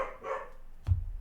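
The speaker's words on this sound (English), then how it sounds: "Okay, well, Neville, you could bark less." A dog barks during a livestreamed Marvel Champions card game session: one or two short barks near the start, then a low thump near the end, heard without talk.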